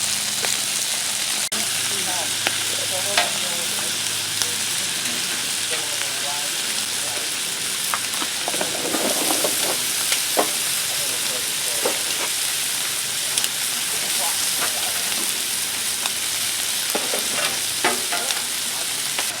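Steady crackling sizzle of burgers and shrimp frying on a Blackstone griddle, with occasional scraping and clinks, plus faint voices in the background.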